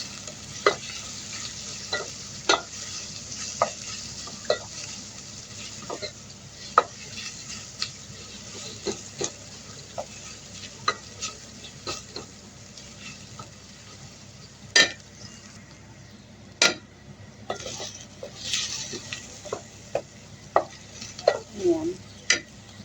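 Garlic fries in a pan with tuna and string beans, sizzling continuously while a utensil stirs it, making regular scraping clinks against the pan that repeat every second or two.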